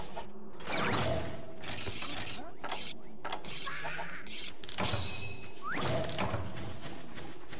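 A weapon is sharpened with a whetstone in the video game Monster Hunter 3 Ultimate: a few gritty scraping strokes with metallic clinks and mechanical clatter, set against steady game ambience at moderate volume.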